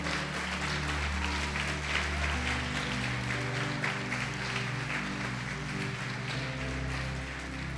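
Church congregation applauding in a sustained, dense wash of clapping that stays steady and loud throughout, with a low organ-like hum underneath.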